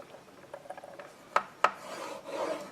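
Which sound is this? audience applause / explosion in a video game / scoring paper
scoring paper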